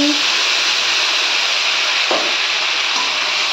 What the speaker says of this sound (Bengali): এটা একটু নেড়ে নিয়ে আমি এর মধ্যে বেটে রাখা মশলাগুলো দিয়ে দিচ্ছি